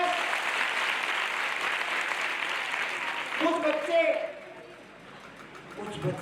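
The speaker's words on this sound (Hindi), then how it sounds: "ताली बजाओ मेरे शाबाश।" A group of children clap together in a steady burst of applause, fairly close, which tapers off with a few voices and scattered sounds following.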